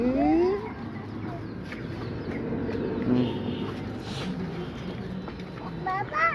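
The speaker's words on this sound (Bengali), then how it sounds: "মুরগি।" A chicken clucks nearby in a village street, giving short calls and a rising squawk. People talk over the clucking throughout.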